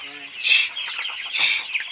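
Broiler chicks on a poultry farm, with two bursts of high peeping calls close by over a brief low tone at the start.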